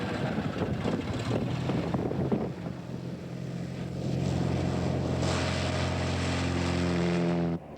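A propeller airplane in flight drones steadily with a loud, sustained engine hum and rising harmonic tones, wind rush over it, no voices.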